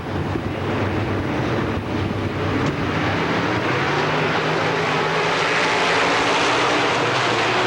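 A pack of dirt track race cars at Pennsylvania Motor Speedway roaring away at the start of a 10-lap race, a dense, loud, sustained engine wash blended with wind buffeting and no voices.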